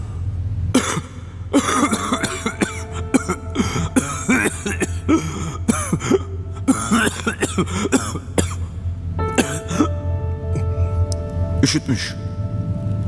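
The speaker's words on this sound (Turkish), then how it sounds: "Öksür." Several sharp coughs and a throat clearing break up over a steady low hum and music, with talking voices heard between them.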